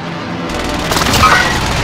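Artillery strike explosions in a video game hit as a loud, dense cluster of blasts and crackling booms, building over a couple of seconds into a heavy rumbling roar.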